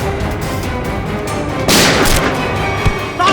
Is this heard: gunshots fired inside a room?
yes